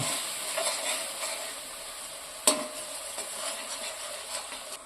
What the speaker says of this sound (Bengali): তেলের মধ্যে এটাকে ভালো করে কষিয়ে ভেজে নেব